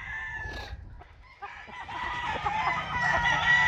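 A rosón rooster crows loudly and close, one drawn-out call rising after a few short clucks and farmyard noises.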